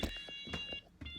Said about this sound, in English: That's a warning in case you're coming through the other way, you don't get hit by the door.